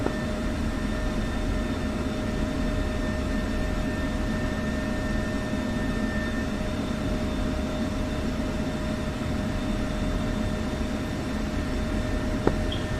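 Steady jet engine roar of an aircraft taxiing in the flight simulator DCS, a continuous broadband rumble with a faint whine holding level throughout, no voices.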